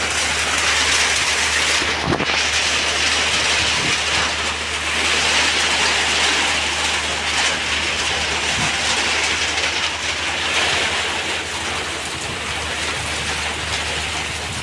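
Heavy rain falls on Dhaka in a loud, unbroken roar of dense drops on surfaces, steady from start to finish with no talking.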